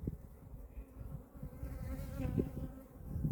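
Honey bees buzz around an opened hive frame during honey extraction, a dense, steady drone close by with individual bees swelling louder as they pass.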